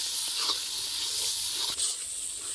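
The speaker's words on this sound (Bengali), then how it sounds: "এইবার মশলাটাকে আমি বেশ কিছু সময় ধরে কষে নেব" Masala spices are fried down in oil for a goat meat curry, making a continuous soft, high hiss that stays even and close, with one faint knock partway through.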